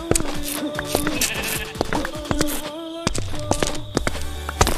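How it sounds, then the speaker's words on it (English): Sheep bleating in Minecraft during modded survival play, several distinct wavering bleats close by mixed with footstep thuds, fairly loud and alone without talk. "Sheep."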